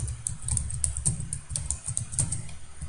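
C code for a doubly linked list typed on a computer keyboard, a brisk, uneven patter of close key clicks and clacks that runs without pause.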